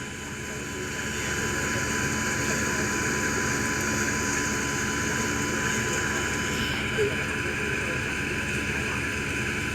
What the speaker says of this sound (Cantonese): 而家個飛機好低，飛過